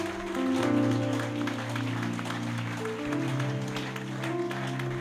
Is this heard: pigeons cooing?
no